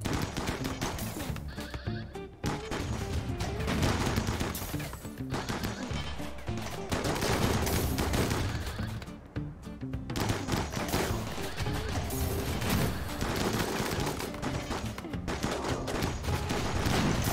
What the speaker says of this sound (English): it's the first time hearing these turrets too